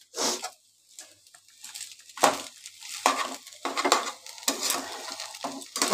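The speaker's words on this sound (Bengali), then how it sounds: "এবার ভালো করে আলু গাজরের সাথে নেড়ে নিচ্ছি।" Chowmein noodles being stirred in a pan with potato, carrot and tomato sauce, a spatula scraping and clattering in repeated bursts with a faint sizzle between strokes.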